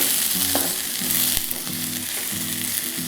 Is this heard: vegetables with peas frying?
yes